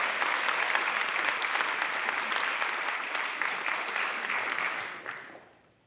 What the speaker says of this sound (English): round of applause right there